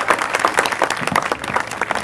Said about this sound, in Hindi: क्लैपिंग का सिलसिला जारी रखिए,